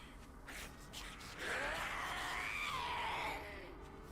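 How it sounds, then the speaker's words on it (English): Scream banshee zombies in the video game 7 Days to Die let out a faint, drawn-out wailing scream that rises and falls for about two seconds over a dull background rumble. "Those frickin' scream banshees are wild, dude."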